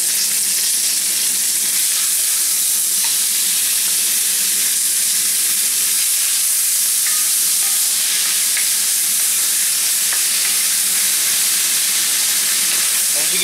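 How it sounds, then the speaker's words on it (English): Oil smoking hot in a wok sizzles and crackles steadily as ginger and pork fry, a dense continuous hiss with scattered pops, close up and without talk. "my oil's smoking, and my ginger's frying, actually"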